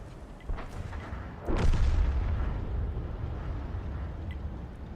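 A heavy SU-14-2 self-propelled artillery gun in World of Tanks fires a single deep, booming shell blast that rolls on into a long rumbling tail, loud and close.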